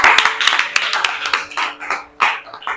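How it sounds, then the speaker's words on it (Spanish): Church congregation clapping in praise to God during an evangelical service: loud, close, uneven hand claps in quick bursts, with a voice or two mixed in. "el aplauso a Dios, hermano"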